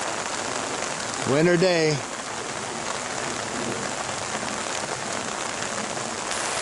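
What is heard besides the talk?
rain falling on a rain garden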